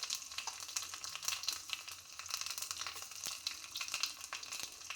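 Mustard seeds, cumin and small onions crackle and sizzle in hot oil for a Telugu dal tempering, a soft, dense spattering hiss with fine pops, fairly quiet and with no voices.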